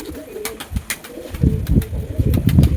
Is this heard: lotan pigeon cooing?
yes